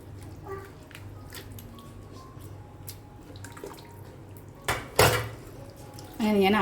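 Rice being stirred with salt in a pot for Mexican rice, giving soft scraping and clinking of utensil against metal through most of the stretch, with a couple of louder knocks near the end and a voice briefly speaking at the close.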